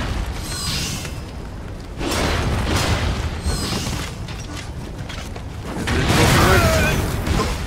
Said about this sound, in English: Okay, that shit actually explodes.